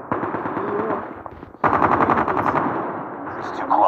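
Rapid automatic gunfire from a weapon in the Call of Duty video game, loud and continuous, dipping briefly before a denser burst, with faint voices talking underneath.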